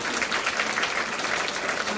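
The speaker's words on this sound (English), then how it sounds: "Let's have a round of applause for everybody here in this room" Applause from the audience at a senior resources awards breakfast in Putnam County, a dense, steady wash of many hands clapping that holds evenly from start to finish with no voices above it.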